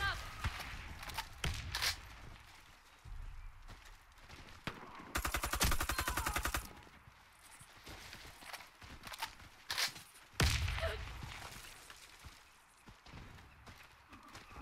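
Gunfire from the Warface shooter game, heard as several sharp bursts of shots, including a rapid automatic burst near the middle, mixed with footsteps and other game sounds.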